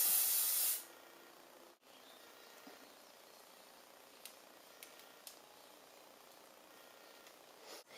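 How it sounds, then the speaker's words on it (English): A short burst of aerosol spray hisses at the start, then gives way to near-quiet with faint small clicks and rustles. "Spray it."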